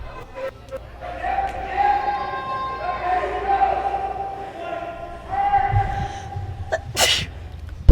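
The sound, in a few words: sneeze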